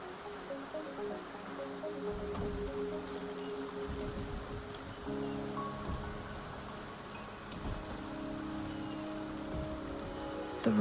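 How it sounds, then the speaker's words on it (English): Rain pours steadily in the video game Wuthering Waves, a constant hiss of falling water with faint low rumbles beneath, no voices. "The rain is subsiding, and the sky will soon clear."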